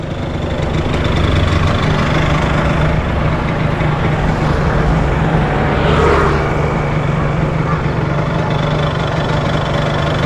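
A Yamaha R15 motorcycle engine idles steadily with a constant rough rumble, loud and close, with no talking.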